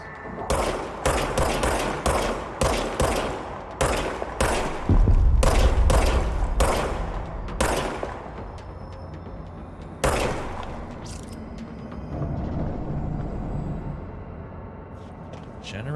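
Gunfire in the game Control rings out as a rapid series of sharp, loud shots in quick bursts, then a few more spaced single shots, with a voice speaking over part of it.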